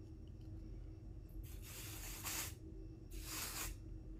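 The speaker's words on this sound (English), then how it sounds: "This is the Oscar Blondie dry shampoo invisible spray." Two bursts of Oscar Blondie dry shampoo invisible spray hiss out, each lasting about a second with a short pause between, close and fairly loud over faint room hum.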